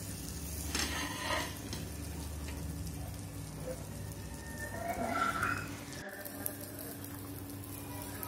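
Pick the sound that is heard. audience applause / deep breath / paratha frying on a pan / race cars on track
paratha frying on a pan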